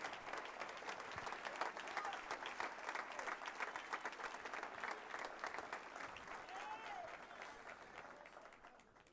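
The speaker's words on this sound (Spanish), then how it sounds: "Podemos dar el aplauso fuerte en esta mañana." A church congregation claps hard and steadily for several seconds, a dense, continuous wash of many hands that stays even before easing slightly near the end.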